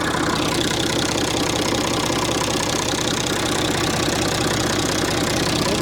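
Tractor engine idling steadily after a start, a close, loud, even diesel-like rumble with a fast, regular low pulse and no voices.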